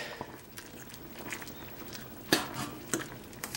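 Kale and potato soup stirred in a pan, with soft close rustling, scraping and occasional light clinks of the utensil against the pan at an uneven pace.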